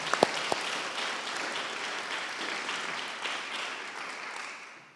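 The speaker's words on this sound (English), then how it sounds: "Let's give them another round of applause as well." An audience at a Wells Fargo pitch competition event applauds the Wells Fargo Foundation, a few sharp early claps swelling into a full, even round of clapping that gradually fades away.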